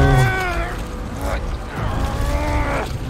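A cat meowing in the Spider-Man 2 video game: two long, drawn-out, tonal meows close by, each bending in pitch, separated by a short pause over low background noise.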